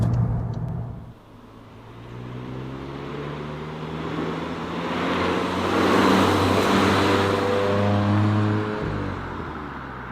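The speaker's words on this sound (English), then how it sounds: "we're doing lane change here about 100 kilometers or 60 miles an hour" A new Volkswagen Golf GTI cruising on a German autobahn at about 100 km/h during a lane change, with a steady engine drone and rising tyre and wind roar heard from inside the cabin, no speech.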